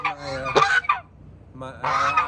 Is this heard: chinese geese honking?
yes